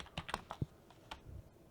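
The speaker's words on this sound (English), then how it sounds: "I'm using my keyboard off my leg right now" Keyboard typing on a computer keyboard propped on a leg: a quick burst of soft, uneven taps, several clustered keystrokes then a few scattered clicks, fairly quiet and close with no talking.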